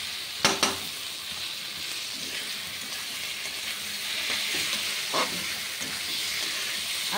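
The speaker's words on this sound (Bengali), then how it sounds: "এই আলু দিয়ে একটুখানি ভেজে নিই।" Potato pieces frying in a pan of hot oil, opening with two sharp clatters of stirring, then a steady sizzle that swells slightly later with another light knock.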